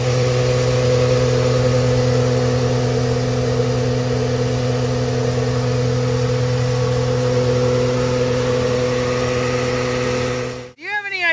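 A vacuum truck pumps out a septic tank, a loud, steady droning hum from engine and pump with strong tonal drones. The hum holds unchanged for about ten seconds, then cuts off abruptly at the end.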